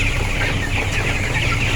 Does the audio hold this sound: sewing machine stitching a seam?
no